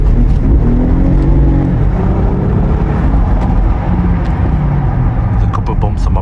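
A BMW car accelerates hard on a private road, its engine heard up close as a loud, continuous rising drone that holds without a break, with someone talking over it.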